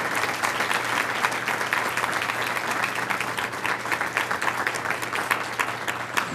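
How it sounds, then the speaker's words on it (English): Sustained, even applause from an audience honoring young musicians at a school board meeting, a dense, continuous patter of many hands throughout. "So if we could have a round of applause for all of the young musicians and Mrs. Sloan."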